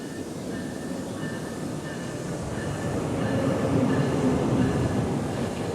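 Steady low rumble of a train arriving at Trenton station, growing slightly louder toward the end, with a faint whine of wheels above the rumble.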